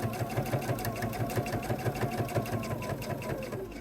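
A sewing machine runs steadily while understitching a garment, a fast even needle rhythm close by with a low motor hum, and no speech over it.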